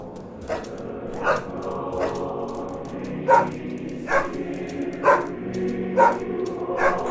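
A dog in the video game Helltown barks in short single yaps, spaced about a second apart, against a quiet ambient backdrop.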